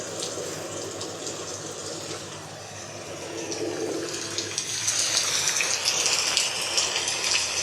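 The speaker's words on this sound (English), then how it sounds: "Oh, it's raining hard." A fake rain sound effect produces a steady, broadband hiss and gush of falling water that swells louder partway through, with no talking.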